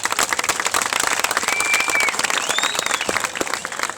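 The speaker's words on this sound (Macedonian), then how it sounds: "Затоа ќе ве молам еден аплауз" An outdoor crowd at the 2015 Đurđovden horse races in Vasilevo applauds in a loud, sustained burst of rapid clapping, with a few shrill whistles cutting through above it.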